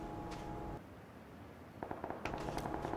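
Bursts of video game gunfire, first a dense rattle, then a short quiet gap before rapid sharp shots resume and grow busier toward the end.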